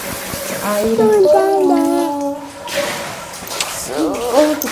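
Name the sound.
water filling a balcony pool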